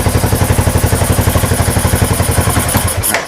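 Honda Wave motorcycle fitted with a CBR300 engine running loud and close with a steady pulsing throb, then switched off near the end so the sound cuts away.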